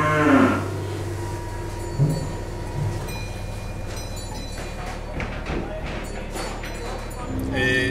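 Cattle on a farm near Wiesbaden on a slaughter day low for several seconds, a loud moo opening the stretch and others following amid steady low rumbling and farm background noise.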